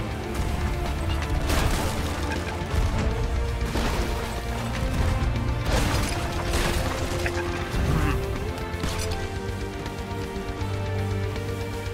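Booming cannon blasts from a ship battle in the video game Sea of Thieves, several loud hits spread across a dense, continuous backdrop of clashing noise and music.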